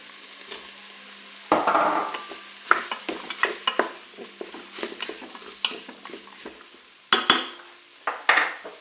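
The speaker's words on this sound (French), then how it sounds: "Je vais maintenant ajouter les carottes." Carrots tipped into a Cookeo multicooker and stirred with a utensil, giving a run of close scraping and knocking strokes against the pot over a soft sizzle, with a few sharper clatters.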